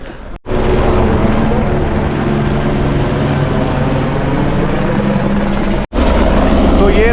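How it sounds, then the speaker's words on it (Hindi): A helicopter at the Kedarnath helipad, a loud continuous rotor and turbine roar filling the whole stretch, steady and close, with two brief cuts in the sound. "ये है यहाँ का हेलीपैड केदारनाथ का, और इस व्यू में हेलीकॉप्टर तो बहुत ही ज़बरदस्त लग रहा है वैसे।"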